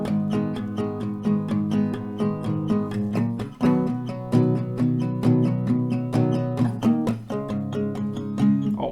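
Acoustic guitar strums a full chord progression from a song at a slightly slower than standard tempo, with steady rhythmic strokes heard close and clear with no talking.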